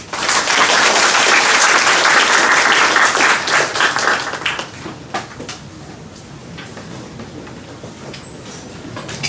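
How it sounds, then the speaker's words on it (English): A tech conference audience gives loud, dense applause for about four seconds, then it thins into scattered claps that fade to a quieter murmuring room. "please give a warm applause to Laurent"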